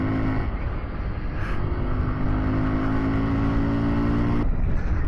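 A Kawasaki Z125 Pro motorcycle's small engine drones steadily up close, its buzzing tone holding fairly level with a slight rise as it rides along, loud and continuous with no talk.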